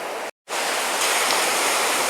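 Sea waves surging onto Tannirbhavi beach in Mangaluru, a broad roaring wash of surf, steady and loud, broken by a brief silent gap before the rush resumes without any voices.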